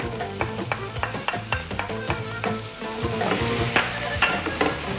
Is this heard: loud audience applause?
no